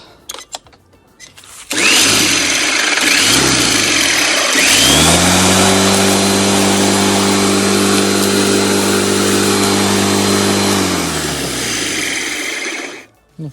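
A wheeled lawn mower's small engine starts up and runs at a steady, loud drone for about ten seconds before cutting off abruptly.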